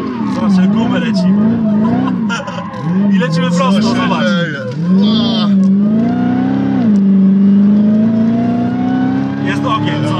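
A car skids and accelerates with tires squealing in long wavering whines and revving engine swells, loud and close, while someone talks excitedly over it.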